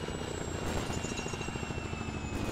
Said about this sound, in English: there's an enemy chopper coming all in